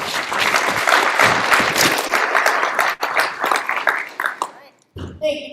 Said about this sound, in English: One big round of applause again for the Precinct Operations team